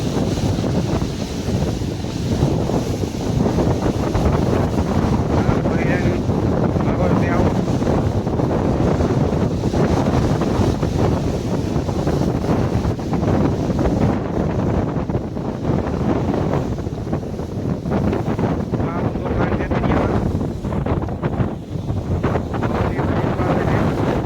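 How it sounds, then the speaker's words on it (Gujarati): Blustery sea wind buffets the microphone at a rocky seashore beside a temple cave, with surf and splashing water rumbling steadily underneath for the whole stretch. "આ લોકેશન દરિયાનું છે. પાણી ઉડે છે"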